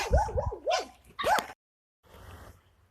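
A domestic dog barks and yips several times in quick succession close by, followed by a short silence and then a stretch of soft background noise.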